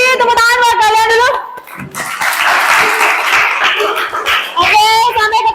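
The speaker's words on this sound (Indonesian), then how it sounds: "Tepuk tangan buat kalian dulu." Students applaud in a classroom lesson, a burst of clapping in the middle surrounded by loud children's voices and a sung or chanted closing.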